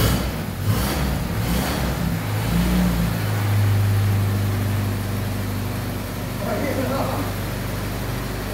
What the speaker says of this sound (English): a little bit of choke, pump the throttle, and we'll hit the starter and see what happens